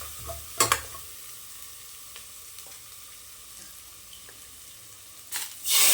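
Mutton masala fries in oil with a steady low sizzle, interrupted by a couple of brief stirring clatters near the start and a louder scrape at the end; no one speaks.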